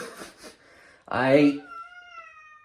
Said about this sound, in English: Oh, this cat's not happy with me.